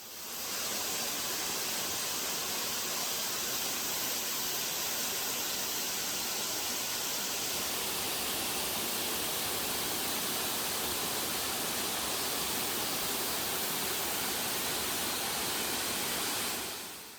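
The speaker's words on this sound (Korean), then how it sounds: "하도 높은 곳에서 떨어지다 보니 주변에 물보라도 대단합니다." A 50 m high waterfall on a Korean trekking trail roars with heavy spray, a dense, steady broadband rush heard close and continuous throughout, with no voices.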